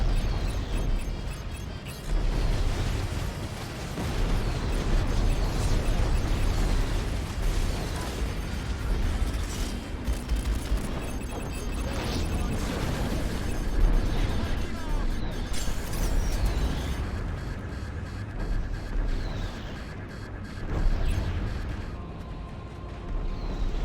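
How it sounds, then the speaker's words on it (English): Repeated explosions and booming impacts from torpedoes hitting in a space battle in Strike Suit Zero, a dense continuous roar of blasts with low rumble throughout, loud and near. "I definitely just ate a torpedo"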